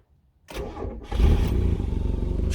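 Cold Mazda MX5 Mk1 engine, unused for a couple of weeks, cranks briefly then catches straight away and settles into a steady, close idle.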